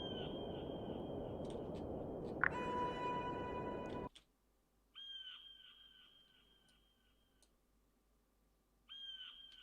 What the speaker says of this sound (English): Okay, so this is the bird.